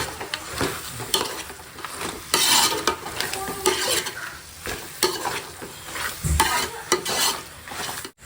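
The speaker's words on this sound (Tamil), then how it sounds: "கறி போட்டு அந்த எண்ணெயிலே கொஞ்சம் வேக வைக்கலாம்" Goat meat sizzling and frying in hot oil in a pan while being stirred, a steady crackling hiss with repeated scraping and clinking of the spoon against the pan, fairly close and continuous throughout.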